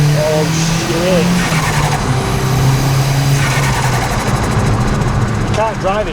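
A high-performance car accelerating hard from about 30 mph, its engine note roaring loud and close with rising and shifting tones, while a voice speaks over it.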